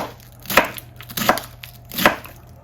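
A kitchen knife chops through vegetables on a cutting board during meal prep, three distinct crisp strikes spaced about three-quarters of a second apart, close and clear with no talking.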